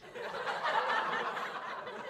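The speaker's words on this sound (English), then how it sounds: "Laugh track." A canned laugh track played from a soundboard: a steady, moderately faint wash of crowd chuckling and snickering that rises quickly and holds for about two seconds.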